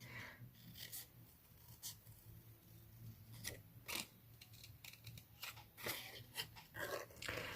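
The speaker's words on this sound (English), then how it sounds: "and now we're going to cut these things out." Scissors snip around stamped paper leaf and flower shapes for card making, producing a series of soft, close, irregular cuts and crisp paper rustles, quiet with no talking.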